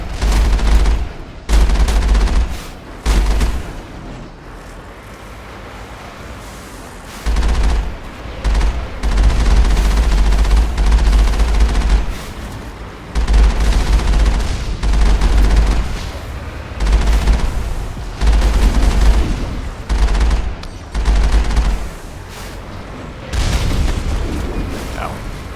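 Geth weapons in Mass Effect 1 fire in repeated loud bursts of rapid gunshots, each volley lasting a second or two and separated by short quieter gaps, with a steady rhythm of fusillades throughout.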